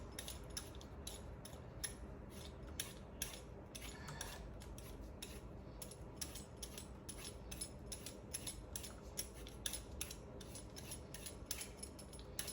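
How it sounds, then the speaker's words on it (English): A hand vegetable peeler scraping along vegetables for homemade soup, a steady run of short rasping strokes close by, repeating rhythmically with no talk. "I peel them, take my time and peel each one"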